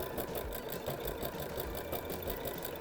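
A sewing machine runs a straight stitch through jelly roll rug wadding, a steady, close mechanical whir with rapid, evenly spaced needle clicks throughout.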